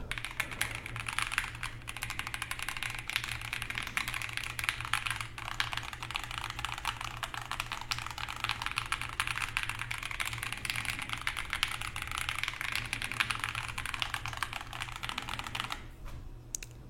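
A mechanical keyboard with its plate removed and non-silent switches is typed on continuously, dense rapid clacking keystrokes close up and alone.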